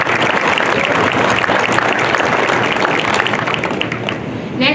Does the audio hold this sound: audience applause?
yes